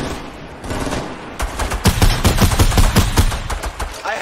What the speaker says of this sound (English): I headshot the Sparkle Specialist.